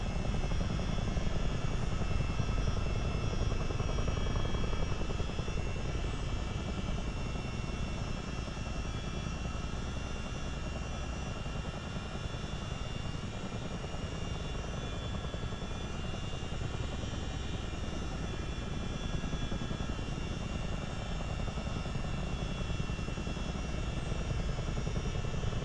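Twin-rotor CH-47D Chinook helicopter in Microsoft Flight Simulator, its turbine engines and rotors making a constant dense, loud drone with a steady whine, unbroken and close for the whole stretch, with no voices.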